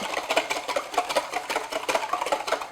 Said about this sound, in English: Need my whisk. And whisk that.